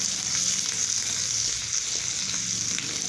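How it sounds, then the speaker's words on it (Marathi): Green chilli thecha frying in hot peanut oil as a tempering, giving a steady, loud, continuous sizzle with no voices. "ठेसा टाकून घेऊ हिरव्या मिरच्याचा"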